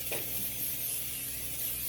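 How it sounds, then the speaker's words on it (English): A can of butter-flavored Pam cooking spray hisses onto a pan while cinnamon rolls are being made: one short, steady burst of spray close by. "Give it a good spray."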